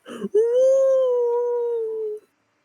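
A person imitates a distant wolf howl, a single long, steady, tonal howl lasting nearly two seconds, heard close and fairly loud with no other sounds.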